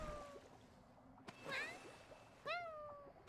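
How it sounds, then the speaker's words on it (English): A cat meows from Kirara's catbox in a video game, giving three short, high, sliding meows spread across a few seconds. They are faint over soft background ambience. "Kirara Catbox meow exactly 3 times"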